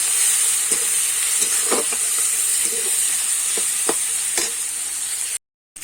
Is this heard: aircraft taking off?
no